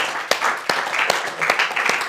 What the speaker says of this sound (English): So first of all, give Barry a round of applause.